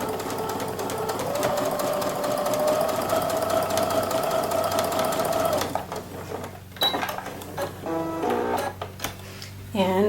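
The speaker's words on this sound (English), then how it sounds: "We'll do our top stitch. A nice straight stitch because this one's going to show." A sewing machine runs a long straight topstitch seam on fabric, steady whirring motor for several seconds, then stops and gives way to shorter stitching bursts, clicks and handling noises.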